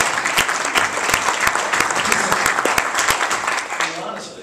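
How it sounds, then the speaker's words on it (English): Audience applause at a chamber of commerce lunch, a loud, close, continuous burst of many people clapping with sharp individual claps standing out, easing slightly at the end as voices start to come through. "You can applaud that if you want."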